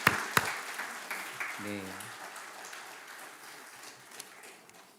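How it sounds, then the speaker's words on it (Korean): A Korean church congregation at a Mother's Day Sunday service gives soft, scattered applause for the mothers. The clapping fades under room noise, and a voice speaks briefly. "우리 어머님들께 다시 한번 감사의 박수 올려드릴까요?"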